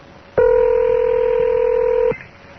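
A single steady telephone touch-tone beep holds for under two seconds while a call is placed back on a radio show, clear and close over faint background hiss.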